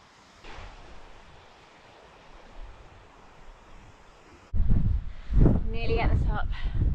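Strong wind buffets the microphone on an exposed hilltop along the Cumbria Way in the Lake District, a steady rushing that turns into loud, heavy gusts partway through, with a voice speaking under the roar.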